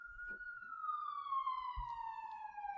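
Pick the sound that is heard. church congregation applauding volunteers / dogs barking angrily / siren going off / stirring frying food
siren going off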